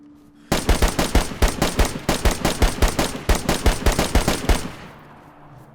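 A long burst of automatic gunfire in the video game DayZ, with roughly twenty sharp, evenly spaced shots in quick succession, loud and close, ending abruptly into a fading tail.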